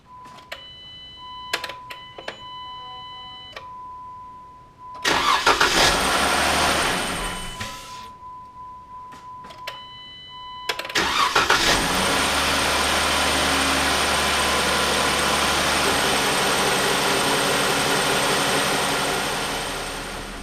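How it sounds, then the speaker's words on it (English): A 2014 Jeep Wrangler with 152,000 miles cranks and fires up twice after warning chimes and dash beeps, roaring briefly, shutting off, then restarting and settling into a steady close idle. "I like to start them, just let that engine catch, turn it off, and then I'll turn it on again"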